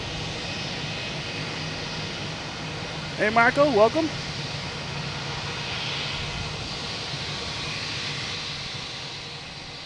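A loud Spirit airliner landing at Logan Airport roars as a steady, broad engine rumble throughout, while a brief voice speaks partway through.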